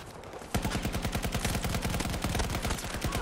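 Automatic gunfire in the shooter game Battlefield 2042, a loud rapid sustained burst of shots in an even rhythm lasting about three seconds.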